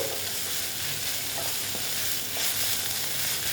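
Red amaranth greens frying in a pan, a dense continuous sizzle heard up close with soft stirring scrapes, no voices.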